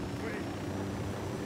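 Helicopter in a Tom Clancy's video game: a steady, continuous rotor drone with broadband whir, moderately loud and even throughout, without clear blade chop.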